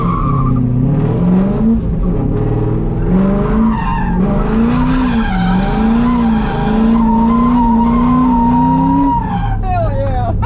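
A C5 Corvette drifting in Fargo, North Dakota lets out long, loud, wavering tire squeals over a revving engine, sliding in sustained screeches with voices faintly in the background.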